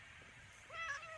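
A cat in the Skyrim video game gives a short, clear meow near the end of a brief moment, rising then falling in pitch over a quiet background hum, with no talking.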